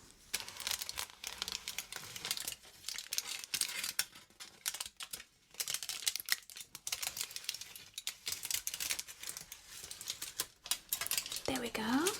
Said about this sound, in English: So I will remove the foil now.